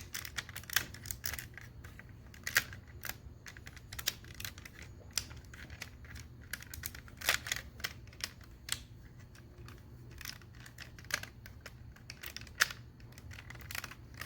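Plastic parts of an I-gears PP05W Weapon Specialist Ironhide toy snap and click together in a quick, irregular series of sharp, close ticks over a low steady hum.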